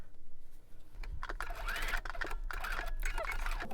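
A sewing machine stitches fabric pieces together for a table runner, a fast, close mechanical whir that starts about a second in and runs steadily to the end.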